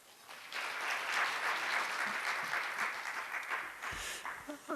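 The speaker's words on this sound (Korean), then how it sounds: "큰 박수로 환영해 주시죠" At the 2015 distribution industry forum, the hall claps to welcome session chair Professor Lee Jung-hee of Chung-Ang University: a quiet, somewhat distant, sustained patter of many hands that swells after a brief pause and tapers off near the end.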